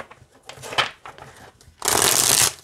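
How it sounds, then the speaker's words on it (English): Oracle cards are riffled and shuffled by hand in short bursts, ending in a louder, sustained riffle, close and clear with no talking. "And they shuffle great this way too."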